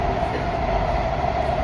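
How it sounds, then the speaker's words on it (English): Ride aboard a Washington DC metro train: a loud, steady rumble and roar of the moving rail car fills the clip, with no voices. "this is the train"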